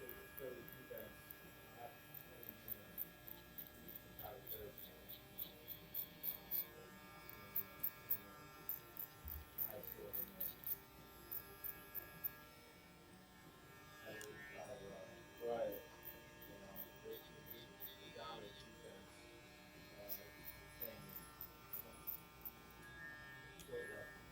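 Electric hair clippers buzz faintly while fading hair, and a person talks over the low hum for much of the time.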